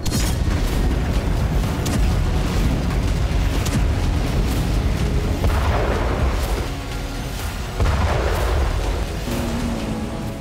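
Sustained, loud blasts and rumbling from Russian weaponry fill the whole stretch, a dense wall of booming with a brief dip near the middle before the roar resumes.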